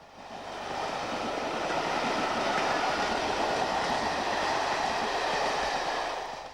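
A heavy Class 52 Western diesel hydraulic locomotive, D1015 Western Champion, rumbles past at steady volume, its engine roar and wheel noise rising and holding before easing off at the end.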